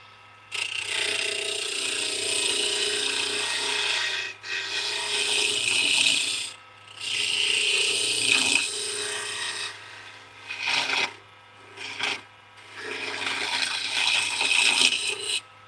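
Skew chisel cutting a wenge wood pen blank spinning on a lathe, a sustained broadband scraping hiss in several long passes broken by short pauses and brief touches, with a steady low motor hum beneath throughout.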